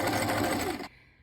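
A sewing machine stitches a dress hem in a fast, even whir of needle strokes, close and steady, stopping abruptly before a short quiet tail.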